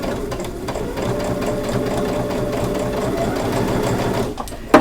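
Sewing machine top stitching a Santa gift bag, running at a steady fast rhythmic whir for several seconds before slowing and stopping near the end.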